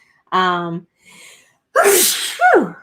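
An allergy sneeze arrives close and loud in two sharp bursts, preceded by a short voiced sound.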